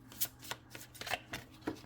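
A tarot deck is shuffled in quick, rhythmic riffles, each card burst crisp and close, repeating about every quarter second.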